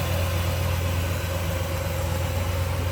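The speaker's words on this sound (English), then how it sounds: "It's smooth running." Close-up idle of the V8 in a 1967 Buick Skylark convertible, running smooth and unbroken with a deep, steady throb and faint mechanical whir throughout.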